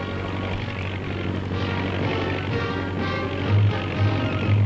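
A 1950s stunt plane flies aerobatics, its propeller engine droning steadily and loudly throughout, swelling slightly toward the end with no voices over it.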